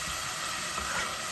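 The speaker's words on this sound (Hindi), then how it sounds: "मैं ये चने डाल दूँगी इसके अंदर।" Chickpeas added to a pan of well-roasted masala give off a steady, even sizzle and hiss of frying, loud and close with no break, and no one speaks.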